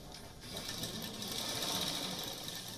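A sewing machine runs at a steady, rapid mechanical clatter throughout, fairly quiet and continuous with no talking.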